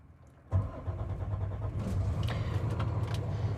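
After a quiet moment, the heavy diesel engine of a 2026 Renegade Verona 40VBH Super C motorhome cranks and fires up, settling into a low, rumbling idle with light rattles.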